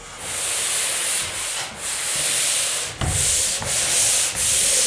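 A drywall wall is being sanded by hand, producing a steady, loud abrasive rasp of back-and-forth strokes with a few brief pauses between passes, close to the listener.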